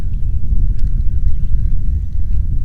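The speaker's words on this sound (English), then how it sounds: "in 5 minutes the wind has picked up 5 more miles an hour probably" Wind gusting over a reservoir in Alabama, a loud, constant low rumble and buffeting across the microphone with a few faint faraway sounds, no talking.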